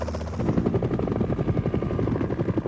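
A helicopter's rotor thuds in a fast, steady chop, loud and close, with an engine drone underneath throughout.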